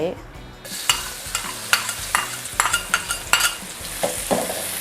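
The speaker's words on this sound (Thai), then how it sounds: "น้ำมันร้อนแล้วเดี๋ยวเราใส่กระเทียมลงไปเลยค่ะ กระเทียมที่เราโขกไว้" Crushed garlic dropped into about three tablespoons of hot vegetable oil, sizzling steadily while a utensil scrapes and stirs the pan in repeated sharp strokes, close and clear with no talking.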